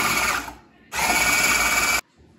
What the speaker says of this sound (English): we're gonna press this little button at the top, and we're gonna whisk until we get nice stiff peaks